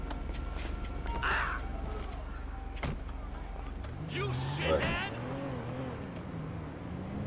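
An old car in GTA 5 idling with a low rumble, then shifting into a rising and falling engine whine as it pulls away, heard under people talking.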